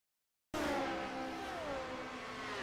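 Vintage Indy race cars lapping at Indianapolis burst in after a short silence, a loud engine whine with pitch sweeping down as a car passes, trailing into a sustained racing drone.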